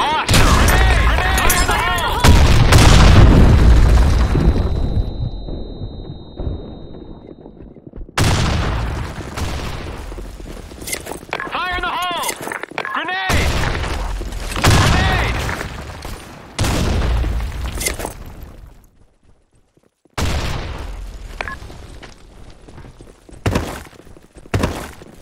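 Grenade blasts and bursts of gunfire from the online shooter Blackshot, heavy booms followed by rattling shots and sharp impacts, loud and close, broken by brief silences, with voices calling out between them.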